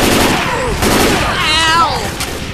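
Gunfire in the zombie shooter Left 4 Dead 2 on The Sacrifice campaign: loud bursts of shots crowd the clip, mixed with game sound effects and shouting voices.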